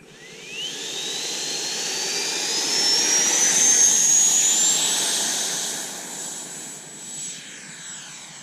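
An FMS Tomahawk Integral 80mm electric ducted-fan RC jet on its maiden flight at stock settings spools up with a rising whine into a loud, steady rushing roar that holds and then slowly fades as it passes.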